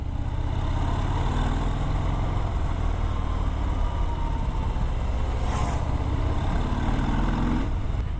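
A 2018 Harley-Davidson Breakout motorcycle engine, a heavy, steady low rumble that is close and loud, with slight swells in revs and no talking.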